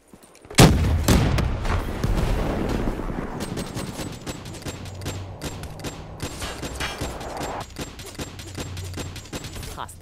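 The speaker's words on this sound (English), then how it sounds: "Hostile Hellstorm inbound" A Hellstorm missile strike in Black Ops 3: one sharp, loud blast followed by a burst of rapid explosions and crackling gunfire that trails off into scattered shots and low rumbling.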